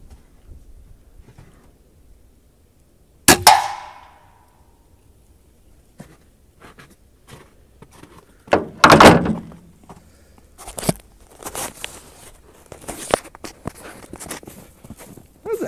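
A crossbow without sights shoots into a satellite dish: two sharp impact cracks several seconds apart, the first ringing briefly, followed by scattered knocks, thumps and footstep-like sounds, with no talk.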